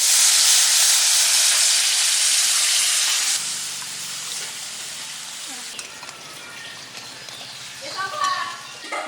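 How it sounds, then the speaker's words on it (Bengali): Water poured into hot spiced oil for a prawn-stuffed pointed gourd dorma curry bursts into a loud, close hissing sizzle with steam for about three seconds, then settles into quieter crackling and bubbling. "এখন আমি মশলায় জল দিয়ে দেবো।"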